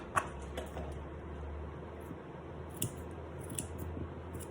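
Scissors trim fur around a dog's foot resting on a grooming table at home, giving a few soft, faint snips spaced across a low, steady background hum.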